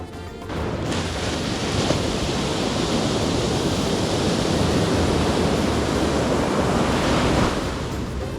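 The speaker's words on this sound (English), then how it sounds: "I really love watching the ocean" Ocean waves at a beach in Speightstown, Barbados, a loud continuous roar of surf washing in, steady throughout with wind noise, no voices.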